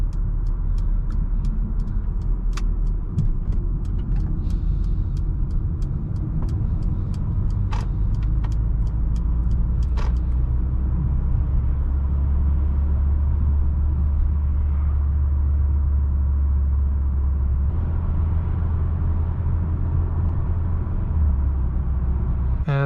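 A 2019 Mercedes-Benz B180 family car cruises on a German Autobahn after a high-speed run, with steady low engine and road rumble, continuous tyre and wind noise, and a few faint clicks early on.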